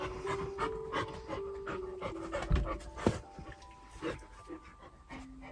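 A dog pants close by in quick, uneven breaths, with a few soft whimpers and small thumps mixed in indoors.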